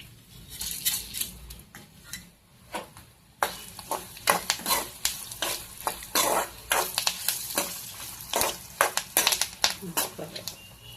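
Coriander seeds and cumin are fried in a pan, heard as a soft sizzle under repeated scraping and stirring strokes that come in irregular bursts, close up and fairly quiet, with a voice briefly present.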